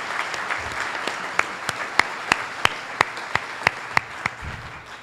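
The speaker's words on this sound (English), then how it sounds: "How about a round of applause for all of these sponsors?" An audience applauds for event sponsors, continuous clapping with a few sharp, louder claps standing out at regular intervals near the microphone.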